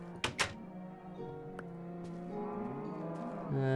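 Cows moo in the Minecraft video game, several drawn-out bovine calls overlapping and following one another after a couple of sharp thunks at the start, fairly loud and close with no talking.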